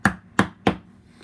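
Three sharp metallic taps, evenly spaced and close, as vice grips strike a part on a Toyan FS-L400 model engine during a build, then a faint fourth tick.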